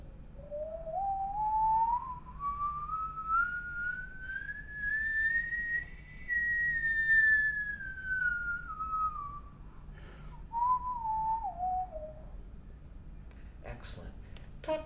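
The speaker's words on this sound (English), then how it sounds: "Did we ever talk about whistling as a way of practicing the harmonic series?" Whistling sweeps smoothly upward through the harmonic series to a high peak, then glides back down, with a brief second lower run near the end, practicing range for a brass method; faint room noise underneath.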